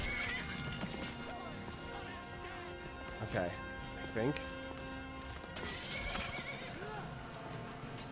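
A horse in the Skyrim video game neighs and whinnies loudly in a couple of bursts, with clip-clop hooves and game combat noise throughout and someone talking briefly over it.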